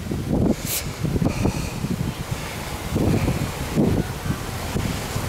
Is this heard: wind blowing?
yes